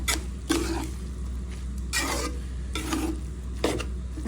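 Dried loitta fish fries in a pan while a utensil stirs it in four distinct scraping strokes, each a short bright rasp over a low, steady sizzle and hum, close up with no speech.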